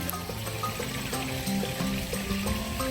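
A waterfall at the elephant enclosure of African Lion Safari in Ontario, Canada, gives a steady rushing wash of falling water, constant and moderately near, with faint tonal sounds layered over it.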